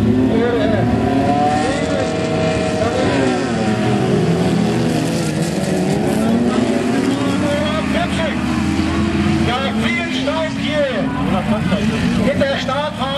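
Autocross race cars tear across a stubble field at a final in Wittenburg, engines roaring loudly and constantly as they rev and accelerate, with a German commentator talking over the din throughout.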